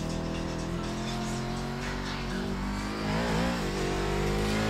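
A Daytona Prototype race car pulling out of the pits and onto the oval during a preseason qualifying run, its engine a dense, loud, steady drone that rises in pitch as it revs up and accelerates, no talking.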